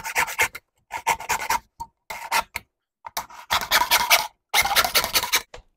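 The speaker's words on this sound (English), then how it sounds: "I'm just going to rest the blade of the hacksaw against there. And we'll just start making a cut." Hacksaw cutting into a powder horn, close and loud rasping strokes in quick bursts separated by short pauses, the rhythm of back-and-forth sawing with no talk.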